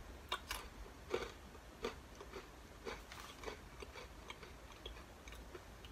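A person chews loudly and close by, with a series of irregular clicking, wet crunches spaced unevenly across a quiet background and no talking.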